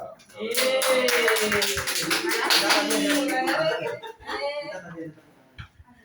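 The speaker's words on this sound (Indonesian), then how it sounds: "Oke, tepuk tangan dulu buat kelompok 3." Classmates clap for a student group in a classroom, a burst of hand claps mixed with chuckles and voices, loud and close for several seconds before trailing off into scattered talk.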